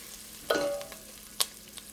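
Onions frying in grass-fed butter in a pan, a soft low sizzle broken by a ringing clink and a couple of sharp utensil taps, quiet and close with no talk.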